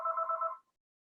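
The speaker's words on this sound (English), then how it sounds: "We got Beamy calling in right now" A telephone rings briefly for an incoming call, a single short electronic trill burst of about half a second, close and clear with no talk over it.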